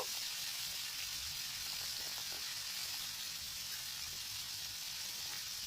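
Koi fish frying lightly in hot oil, giving a steady, continuous sizzle and hiss that stays even and fairly quiet throughout, with no talking.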